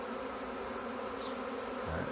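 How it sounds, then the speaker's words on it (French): A swarm of large honeybees arriving at a hive, a steady close droning buzz filling the whole stretch without pause. "Des belles abeilles, hein, vraiment des abeilles de belle taille."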